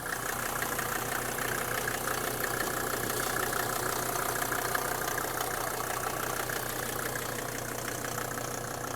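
A Mercedes G-class 250GD with a 200 hp turbocharged OM605 five-cylinder diesel runs steadily at close range, a continuous loud, rough engine drone with no talk over it.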